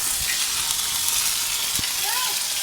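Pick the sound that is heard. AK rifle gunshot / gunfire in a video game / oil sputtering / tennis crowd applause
oil sputtering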